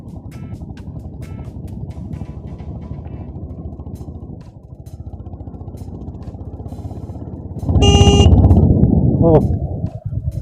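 A Honda CB 350 RS motorcycle on an evening road ride gives a steady, close engine rumble mixed with wind noise throughout, with a louder burst of a harmonic, horn-like tone from passing traffic near the end.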